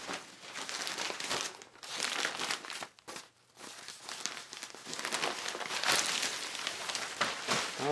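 Newspaper packing crumpled and crinkled by hand while a parcel holding bow parts and broadhead tips is unwrapped, a busy close rustling with a brief lull midway before the crackling resumes.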